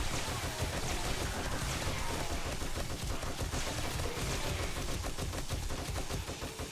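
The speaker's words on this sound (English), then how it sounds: "Dude, machine guns are freaking lit." Sustained machine gun fire in the zombie survival game 7 Days to Die rattles in rapid, dense bursts, loud and close, with no talking over it.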